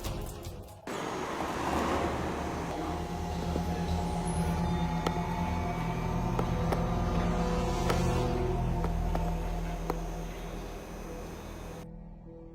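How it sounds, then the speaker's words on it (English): A police vehicle drives past with a steady engine hum and road noise that swell and then fade over several seconds, with no voices. "A police vehicle passes"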